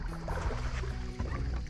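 A bass-fishing boat idles back into a creek on Raystown Lake in early fall, giving off a steady, low engine drone with faint water wash and no talk.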